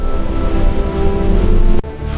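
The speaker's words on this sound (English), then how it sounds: "But the waves rise!" Ocean waves surge and swell in a steady, loud wash of broadband noise, building over two seconds before a sudden brief cut and return; a low musical drone runs underneath.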